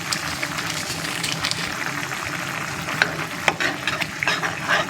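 Squid adobo bubbles and sizzles steadily in a pan on the stove, close by, with a few sharper pops and spatters breaking through the continuous hiss.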